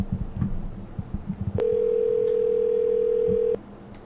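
A steady, loud phone tone rings out alone for about two seconds while an outgoing call is placed to return a missed call; brief talk and noise come just before it.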